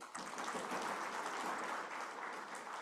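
Applause from a large conference audience, a steady dense wash of clapping that holds evenly throughout at moderate distance.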